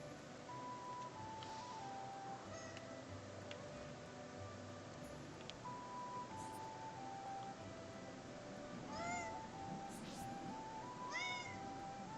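A pet cat meows several times in short, rising cries, fairly faint over a steady background of game music and ambience.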